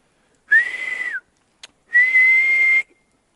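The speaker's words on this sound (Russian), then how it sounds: "Свистеть тяжело." A person whistles outdoors in a cold, snowy forest: two clear sustained tones, the first slightly falling at its end, separated by a short click, with quiet surroundings.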